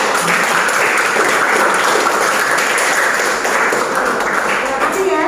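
Classroom applause from students, a steady wash of clapping that fills the room throughout, with some voices mixed in.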